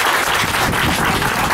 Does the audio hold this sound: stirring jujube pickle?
no